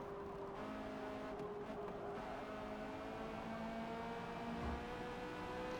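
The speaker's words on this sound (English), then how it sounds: "Again, you notice I'm blipping the throttle." Corvette C8 engine in Forza Motorsport with the throttle being blipped, a quiet, steady engine drone with shifting tones and brief rises in pitch, heard faintly with no talk.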